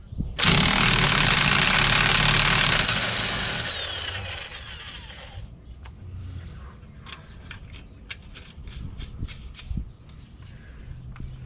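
Loud air impact wrench or power tool whirring on a Dodge Ram 1500 5.7-liter 4x4 front end axle nut, a steady burst for about three seconds that tapers off, followed by quieter clinks and tool handling.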